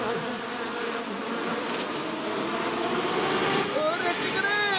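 A cartoon bee from an animated Motu Patlu episode buzzes continuously and close, its drone wavering in pitch while a character's voice talks over it.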